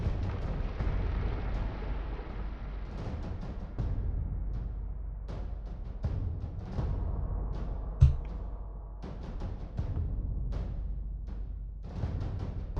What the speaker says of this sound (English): I'm just hoping that that really is fireworks and not something else.